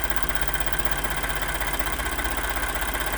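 A 2012 Ford F-150 with the 3.5 engine runs after a timing components replacement, giving a steady, loud, even idle with a constant low rumble and fine rhythmic pulsing, close by and alone.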